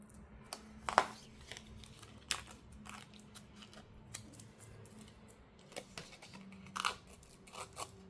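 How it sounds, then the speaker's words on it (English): Scissors snipping through sticky material during a live crafting shop-and-show session, a handful of short sharp cuts scattered over quiet background hum, fairly faint and close. "Use the scissors to just finish it off."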